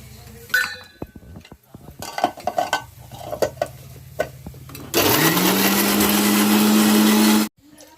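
Ginger and garlic ground into a paste for biryani in an electric mixer grinder, preceded by clinks and clatter of utensils and lid, then a loud, steady motor whir for about two and a half seconds that cuts off abruptly.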